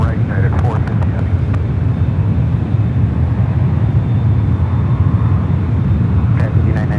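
A United heavy airliner takes off from runway 1 right at San Francisco airport, its loud, steady jet roar filling the whole stretch without a break.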